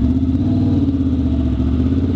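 Loud, throaty exhaust of a vehicle running without a proper muffler, heard from close by as a steady, rumbling drone with a boomy reverberant quality, no voices.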